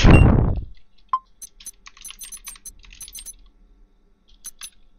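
Rapid clicking of a computer keyboard during a horror hacking game, scattered uneven keystrokes after a loud initial thump and a single sharp click, fairly close and alone.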